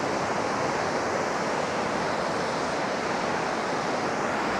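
Ocean surf breaking on an Eyre Peninsula beach, a steady loud wash of waves with wind noise blowing across the microphone and no voices.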